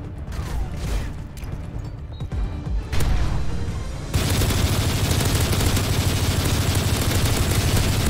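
Light machine gun fire in Call of Duty MW3, with scattered shots early on, then a loud, continuous roaring burst that fills the second half, close and sustained.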